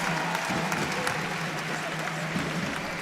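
A fencing match crowd at a Germany versus Hungary team gold final cheers and applauds steadily, a dense continuous roar with scattered claps, while a commentator talks over it.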